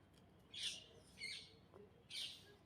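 Asian koel calling outdoors on a hospital campus, giving three separate whistled notes spaced about a second apart, moderately near over faint ambient noise.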